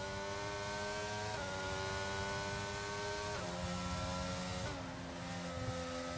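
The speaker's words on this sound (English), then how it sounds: "Oh, those revs." A Formula 1 car in a racing video game screams through a Miami qualifying lap. The engine's high, steady whine climbs and drops with quick gear changes at several points, loud and close, with no talk.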